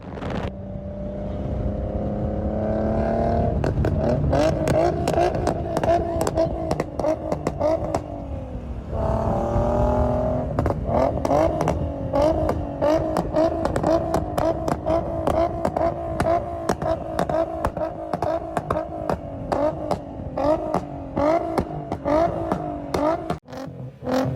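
A 2006 Infiniti G35's engine revs hard and loud up close, climbing from idle into sustained high rpm, dipping briefly, then holding a raspy, steady roar with crackling exhaust for over twenty seconds.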